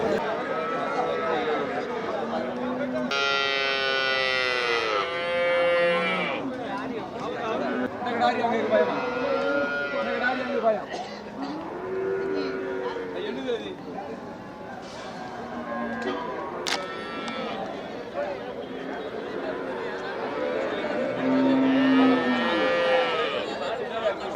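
Cows low repeatedly at the busy Melapalayam cattle market, their moos rising and falling over a steady hubbub of crowd chatter and nearby talking voices.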